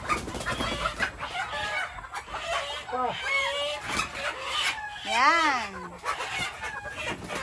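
Newly caught Battlecross breed chickens cluck and squawk agitatedly nearby, with one loud rising squawk midway, while people talk briefly in the background.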